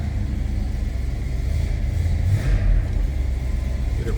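A 1963 Ford Fairlane 500 two-door hardtop idling as it warms up after a cold start, a close, steady low rumble that swells slightly midway, with no talking.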